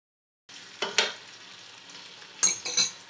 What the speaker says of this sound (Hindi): अब हम इसमें अदरक लहसुन डाल देंगे 1 टेबल स्पून भर के।